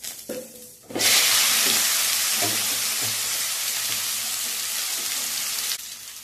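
Boiled taro stolons drop into a hot frying pan of oil with bay leaves, a quiet start giving way to a loud, steady broadband sizzle with a few soft knocks, holding until it drops off near the end.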